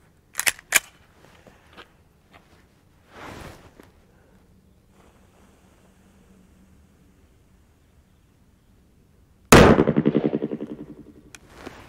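XD9 pistol firing weak rounds that fail to cycle the action: a few sharp cracks early on, then one loud close shot with a ringing decay near the end, with quiet stretches between.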